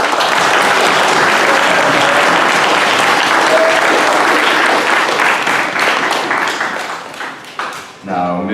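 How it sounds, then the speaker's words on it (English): An audience at an Eagle Scout Court of Honor breaks into dense, sustained applause that fills the room, thinning toward the end as a voice resumes speaking. "Let's give him a round of applause."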